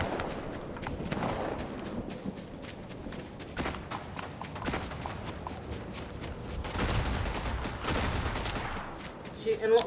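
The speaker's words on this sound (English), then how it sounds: "Shooting lots of enemies, Emma." Gunfire in Fortnite while shooting enemies, a busy stream of scattered shots and bursts mixed with footsteps and game clutter at moderate loudness, with short bits of voice underneath.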